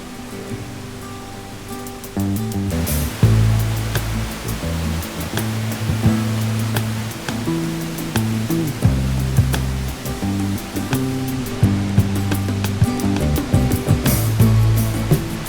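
Giessbach Falls in Switzerland thundering close by, a dense, continuous rush of broadband water noise that swells louder after the first few seconds and holds steady, with faint tonal hums and clicks mixed in.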